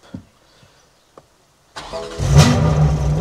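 A tuned BMW M3 Competition Stage 2 with its exhaust valves closed and sport mode on starts up after a few faint clicks: a sharp crank catches into a loud, deep idle rumble close by.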